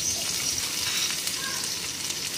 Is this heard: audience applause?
no